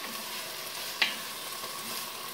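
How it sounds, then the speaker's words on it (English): Garlic sizzles steadily in a Dutch oven while a spoon stirs it, with one sharp scrape against the bottom of the pot; a quiet, even hiss with no voices. "we're just stirring it up. Getting all that nice char off the bottom there"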